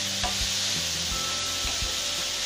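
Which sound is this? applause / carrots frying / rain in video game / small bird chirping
carrots frying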